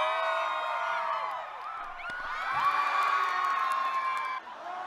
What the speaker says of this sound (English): everyone started cheering for him